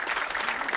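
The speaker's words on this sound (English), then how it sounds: "And the crowd goes wild, folks." Brief burst of applause from a crowd at a senior bowling tournament's stepladder finals, steady and dense for under a second with no voices standing out.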